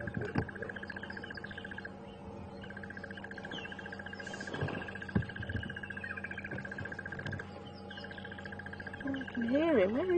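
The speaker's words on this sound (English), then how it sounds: "You're hearing the bird in the background there." A bird calls repeatedly in the African bush at sunrise, a steady series of high chirping notes with brief pauses, heard at moderate distance alongside vehicle hum and a person talking.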